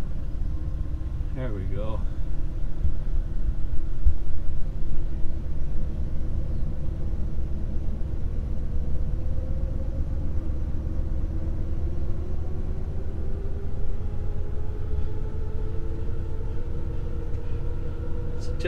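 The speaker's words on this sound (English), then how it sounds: "One press of the gas pedal should fire right up." A 1956 Pontiac Star Chief V8 cranks briefly and fires, then settles into a steady low rumbling idle with a rising hydromatic transmission whine, close by, with someone speaking briefly at the start.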